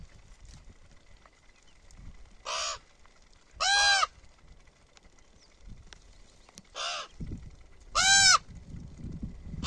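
Four loud, harsh caws from ravens, spaced a few seconds apart and fairly close, over a quiet outdoor background with faint rustling.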